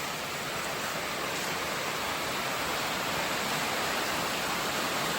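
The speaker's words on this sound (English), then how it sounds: "This is just a little stream, and look at how it's carved through the land." A small stream flows through woods near a creek, a steady broadband rush of running water that stays even and continuous throughout, close and fairly loud with no voices.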